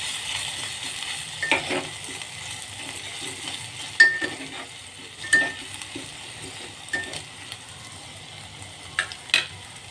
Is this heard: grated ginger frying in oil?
yes